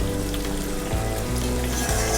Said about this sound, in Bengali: তো দেখো ঝোলটা ভালোভাবে ফুটছে